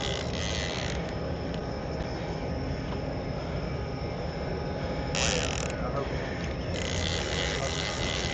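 A fishing reel ratchets steadily while a tuna is cranked in on a boat in the Gulf, a continuous loud mechanical clicking and whirring that never lets up.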